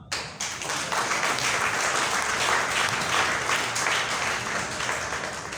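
A lecture audience breaks into loud, close, dense clapping that starts abruptly and holds steady before easing slightly near the end.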